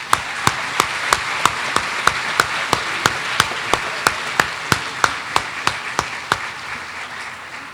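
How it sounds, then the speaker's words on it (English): At a Grade 5 moving-up ceremony, clapping rings out as a steady, evenly spaced beat of about twenty sharp claps in unison, fairly close, then stops. "So please join me in a round of applause for all of them."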